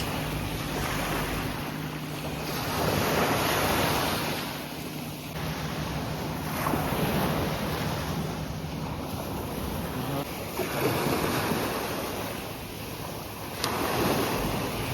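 Sea waves breaking on a beach at Beldibi in October, a steady close rush of surf rising and falling in several swells, with wind buffeting the microphone throughout and no voices.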